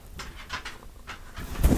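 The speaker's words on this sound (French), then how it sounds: "vous l'avez jamais vu mon chien sur cette chaîne" A dog pants in quick, soft, breathy bursts close by, growing louder and heavier toward the end, with no talking.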